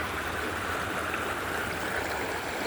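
A flowing river stream, a steady close wash of moving water heard alone without voices.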